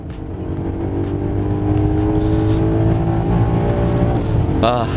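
A 2017 Maserati GranTurismo Sport coupe in sport mode accelerates hard on a circuit, its engine a loud, continuous rising roar heard from close by, with a brief tire squeal near the end.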